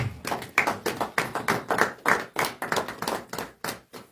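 A church congregation claps together in loud, rapid, irregular bursts of hand claps for about four seconds, with no talking over it.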